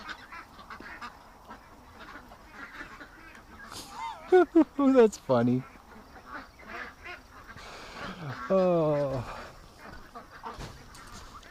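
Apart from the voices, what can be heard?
ducks calling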